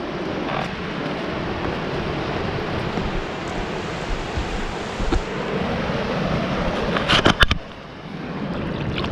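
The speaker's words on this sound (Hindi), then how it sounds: "मंदिर के पीछे से पानी बह रहा है और उधर वाटरफॉल" Water pours steadily at Chitrakote waterfall on the Indravati river, a broad continuous rushing roar heard from a distance, with a few brief knocks near the end.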